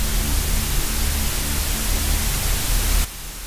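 A video game glitch throws out a loud wall of hissing white-noise static that holds steady for about three seconds, then drops abruptly to a quieter hiss.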